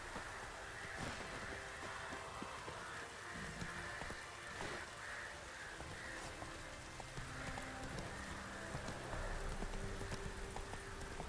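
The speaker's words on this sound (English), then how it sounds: "Almost sounded like the horse left." Horse hooves clopping in the video game Witcher 3, a steady run of rhythmic hoofbeats mixed into dense, loud ambient game sound that resembles rain, continuing throughout without talk.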